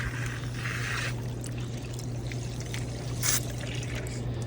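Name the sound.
water draining into a ground drain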